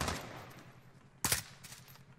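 Gunfire in Call of Duty Warzone, a single sharp, loud burst of shots cracking out partway through over a steady rumble of in-game background noise.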